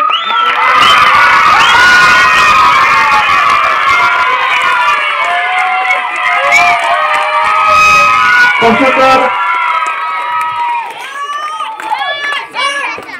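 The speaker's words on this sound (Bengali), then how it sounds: "ট্রফি তুলে দিচ্ছে ভিকি, সকলে হাততালি দেবে।" A crowd at a village cricket tournament trophy presentation in Thanarpara cheers and shouts loudly and continuously, with children's excited voices and whoops throughout and a voice speaking over the noise.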